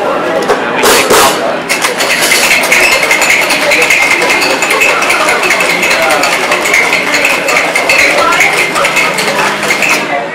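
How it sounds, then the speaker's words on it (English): A tin-on-tin cocktail shaker packed with big ice cubes is shaken hard to chill a daiquiri. It makes a loud, steady rattle and clatter of ice against metal that runs unbroken for about ten seconds. "we're going to shake this drink over ice using a tin on the tin"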